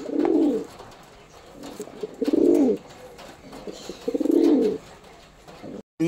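Pet pigeons of show breeds such as Andhra and Madras coo close by in three repeated throaty, rolling phrases separated by short pauses, with faint background noise between them.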